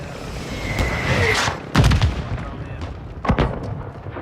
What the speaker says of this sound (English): Mortar incoming!